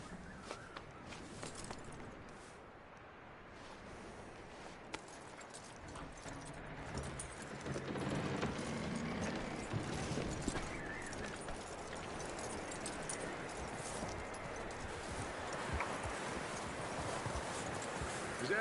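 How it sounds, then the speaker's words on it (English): Horse hooves clip-clopping in the Red Dead Redemption II video game: a steady, soft rhythm of hoofbeats that runs throughout, faint and close, with quiet ambient outdoor noise behind it. "That looks like a decent horse."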